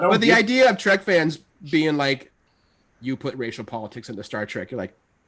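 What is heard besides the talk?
No everyday noise stands out behind the speech.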